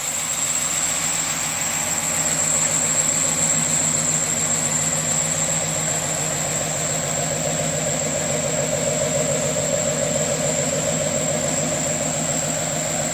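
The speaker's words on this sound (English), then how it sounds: "That's the supercharger that you hear." A built 454 V8 in a Silverado 3500 pickup with a ProCharger supercharger runs at a steady idle, its loud, continuous drone topped by a constant high supercharger whine, with no talk.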